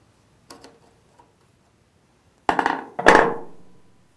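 A box-end wrench loosens the clamping bolt on a Chrysler 46RE transmission, then a screwdriver pries the part up and off: a few faint metallic ticks, followed by two loud close clanking bursts with a short ringing tail.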